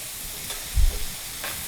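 Onion, garlic, ginger, green chili and curry leaves frying in a pan for beef fry, a brief soft sizzle with a low stir or scrape near the middle, otherwise quiet kitchen hiss.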